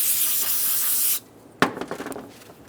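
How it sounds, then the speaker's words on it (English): A can of parts cleaner hisses in one steady spray onto a clean rag for about a second, close and loud, then a sharp knock and soft rustling handling noises follow, on a 2003-2008 Honda Pilot valve cover job. "Using a clean rag and some parts cleaner,"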